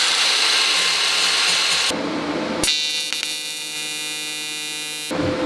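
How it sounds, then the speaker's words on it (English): Filler metal is welded onto a motorcycle frame tab, giving a harsh buzzing hum with abrupt starts and stops as the arc is struck and broken, loud and close. "I'm going to try and weld onto this thing, add material on, and recreate this tab."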